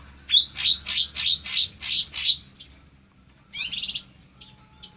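A captive cucak jenggot lure bird calls loudly and close: a quick run of about eight sharp, rhythmic whistled notes, a pause, then a second rapid trilling burst, over faint background noise.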